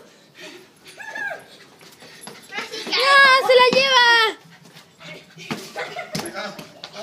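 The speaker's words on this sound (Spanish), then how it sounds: "Tengan cuidado con mi perro." A dog whimpers and yips while playing with children, giving short whines, then a louder sustained whining cry in the middle, with children's voices and shouts around it.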